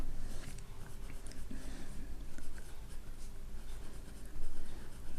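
Pen writing out a maths answer by hand on paper, a soft continuous scratching that runs steadily throughout at close range, with no voices.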